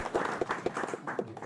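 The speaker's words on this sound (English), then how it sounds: "Round of applause." Applause for a prize winner at a mines first aid and safety competition, a fairly faint patter of claps in an uneven, scattered rhythm lasting barely over a second.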